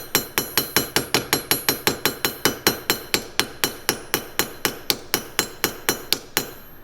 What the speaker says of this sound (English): I can just use the peening head of my hammer.